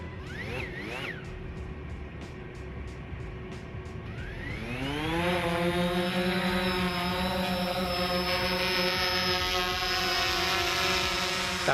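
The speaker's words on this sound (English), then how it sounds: "Got my sidekick Freddy here for a couple hours to test out the drone" A DJI Phantom 4 Pro drone whirs steadily nearby, its rotor pitch climbing sharply as it spins up and then holding a loud, sustained buzzing whine for several seconds.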